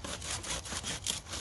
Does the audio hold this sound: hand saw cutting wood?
yes